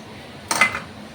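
A single short scrape of a spoon against a pan while stirring chicken egg macaroni, close and moderately loud over a faint background hiss.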